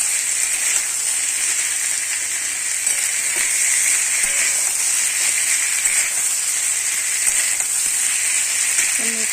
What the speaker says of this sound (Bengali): সব একসাথে ভাজা ভাজা করে কষে নেব